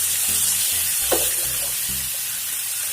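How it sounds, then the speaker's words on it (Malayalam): Turkey berries sautéing in a pan for Palakkad-style chundanga puli, a steady loud sizzle with a spatula scraping and stirring through the frying mixture. "ഇങ്ങനെ ജസ്റ്റ് ഒന്ന് നന്നായിട്ട് വഴണ്ട് വരട്ടെ"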